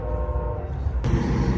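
A train rumbles past close by, a steady low roar with metallic rail clatter, rising in intensity partway through.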